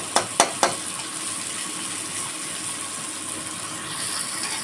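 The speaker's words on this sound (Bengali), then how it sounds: "পেঁয়াজগুলো লাল লাল ভাজা হয়ে গেছে" Onions frying in a pan for a soybean curry, a close, steady sizzle with a few sharp clinks of a spatula against the pan at the start, no talking.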